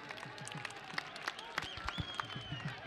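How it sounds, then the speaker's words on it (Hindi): Spectators clap at a kabaddi match in Islamabad, scattered, uneven hand claps standing out over a low crowd murmur, with some voices in the background. "एक ताली मारनी पूरी ताली की आवाज आनी चाहिए"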